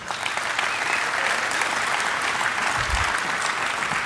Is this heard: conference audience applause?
yes